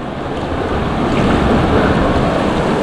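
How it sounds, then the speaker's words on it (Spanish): Strong river current rushing near a waterfall in the Huasteca Potosina, a loud, continuous roar of churning water that holds steady throughout with no voices. "Demasiado fuerte la corriente, es imposible cruzar."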